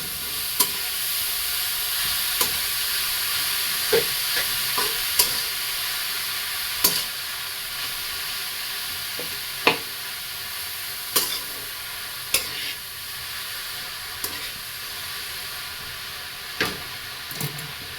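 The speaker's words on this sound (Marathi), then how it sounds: "बीट टाकल्यानंतर आपल्याला छान असं हलवून घ्यायचं आहे।" Beetroot frying in ghee keeps up a steady, loud sizzle while a spoon stirs it, leaving regular scraping knocks every second or two. No one speaks.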